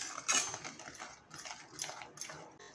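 Spoon scraping and clinking against a bowl while stirring raw mango murabba spiced with chili powder and garam masala, several faint irregular clicks and scrapes spaced over a few seconds.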